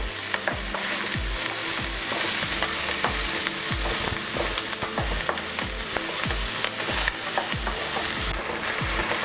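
Eggs frying for egg bhurji in a pan, a steady loud sizzle broken by repeated rhythmic scrapes and knocks of a spatula stirring, with no voices.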